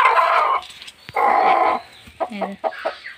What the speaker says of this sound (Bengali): আমি মুরগি উঁচু করে তোমাদেরকে দেখাচ্ছি।